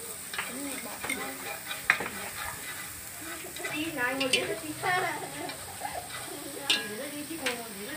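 Lemongrass and garlic sizzle in hot cooking oil for stir-fried snails with chili, with steady frying hiss and intermittent scraping and stirring of the pan, some voices faint in the background.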